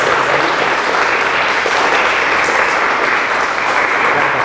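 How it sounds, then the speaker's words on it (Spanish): An audience applauds at the end of an academic talk on ethnozoology and zooarchaeology in the Maya area, producing a dense, even patter of many hands clapping that holds steady and loud throughout. "les damos un poco de aplauso"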